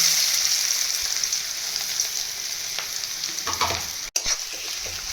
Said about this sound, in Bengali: যতক্ষণ না লাল করে ভাজা হয় ততক্ষণ ভাজতে থাকবো